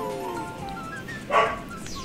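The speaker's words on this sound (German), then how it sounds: "Hör auf zu bellen, das nervt." A dog in the video game Super Mario Galaxy gives a single short bark midway through, over soft in-game musical tones.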